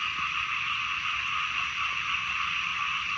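Right after fresh rain, a thick chorus of frogs croaks steadily, their overlapping shrill calls forming an unbroken, loud wall of sound.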